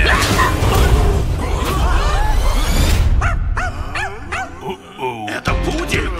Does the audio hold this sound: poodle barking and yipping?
yes